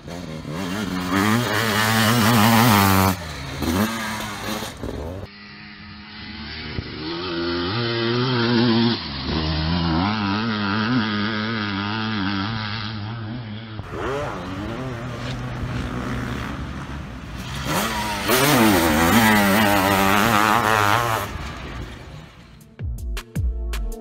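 A Pantera PM0718 548cc two-stroke engine revs hard in several loud, buzzing bursts, rising and falling in pitch between short pauses, with no talking over it.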